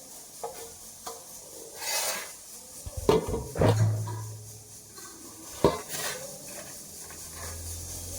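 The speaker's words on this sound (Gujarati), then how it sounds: "હવે બાંધી દઈએ મેદો બાંધી દઈશું" Soft rubbing and squishing as maida flour dough is kneaded in a metal plate, with occasional scrapes and light clinks, close up and uneven in rhythm.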